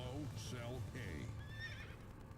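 A horse in the city-building game Cities: Skylines whinnies loudly and close, a rising and falling neigh repeated in short bursts over a low rumble, with light hoof clip-clops, while a voice talks underneath.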